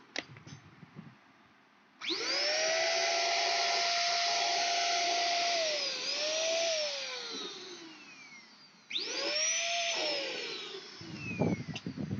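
Corded 3-in-1 handheld vacuum cleaner switching on with a loud, steady whine, its pitch dipping and recovering as it pulls at loose hair, then cutting off and starting again for a few seconds.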